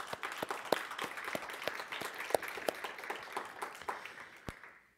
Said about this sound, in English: it's time for already a round of applause for our contributors